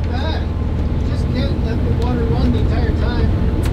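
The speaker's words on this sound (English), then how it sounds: "Kind of hard to hear you with the engine going." A boat's engine runs steadily underway, a loud low drone with a harmonic hum filling the scene while people talk over it nearby.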